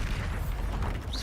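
Bombarda explosion spell from the video game Hogwarts Legacy, a dense, rumbling boom that fills the low end with steady loud energy throughout, no voice over it.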